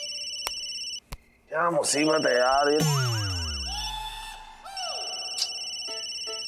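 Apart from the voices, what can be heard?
phone ringing late at night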